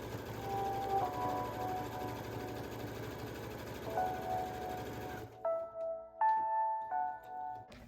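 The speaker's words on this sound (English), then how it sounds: "stitch along the open edge of the strap using a 1/8 inch seam allowance to close the strap" A sewing machine runs steadily along the edge of a tote bag strap in a loud continuous whir for about five seconds, then stops and gives a few short, separate bursts of stitching.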